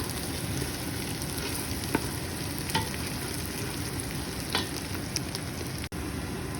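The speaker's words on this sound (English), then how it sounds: "Let's try to brown up those onions, the garlic I should say" Garlic and onions sizzle and brown in a pan for French onion soup, a steady, fairly loud frying crackle with a few stirring clicks and scrapes, no talking.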